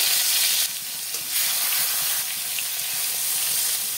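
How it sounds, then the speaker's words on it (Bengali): Pieces of kalbasu fish fry in hot oil in a kadai, giving a loud, steady sizzling hiss that dips briefly and stays close and continuous, with no voices. "মাছগুলো লাল করে ভেজে নিতে হবে।"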